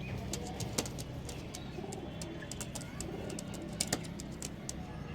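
A pair of original Chennai breed pigeons coo in the evening, quiet repeated throaty rolls under scattered sharp clicks and chirps, a couple of louder bumps, no one speaking.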